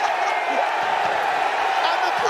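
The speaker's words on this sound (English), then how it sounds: "And the crowd are going crazy." A Cage Warriors MMA arena crowd roars and whoops in a steady, dense wall of cheering after a big finish, loud and continuous, with a commentator talking over it.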